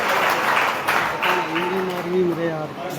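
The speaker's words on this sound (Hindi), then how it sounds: "राकेश जी के लिए तालियों के साथ सभी सदस्य स्वागत करेंगे।" At a village talent award ceremony, an audience gives a steady wash of applause to welcome a guest, while a voice speaks over the clapping throughout.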